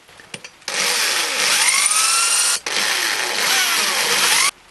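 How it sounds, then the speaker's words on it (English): A power drill bores holes into a soft alloy flywheel in two sustained, loud, close bursts. The motor pitch rises and bends as the bit bites, with a brief stop between the runs. "I think I'm then going to turn over and drill 3 more closer in"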